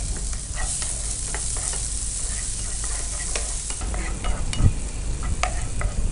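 Vegetables frying in butter in a pan, giving a dense, continuous loud sizzle with frequent crackles and occasional stirring knocks, no talk.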